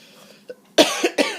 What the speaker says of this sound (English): I just get so dried out that if I don't drink, I'll cough, and it's a dry cough.